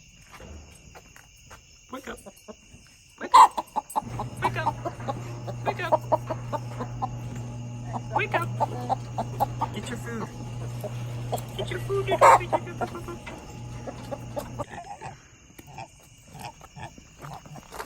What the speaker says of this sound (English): all the chickens are waking up and are gonna come down there.